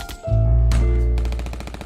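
A gunfire sound effect used in a true-crime documentary about an FBI shootout: loud, close bursts of rapid shots with heavy low-end boom, followed by a ringing rattle as the volley trails off.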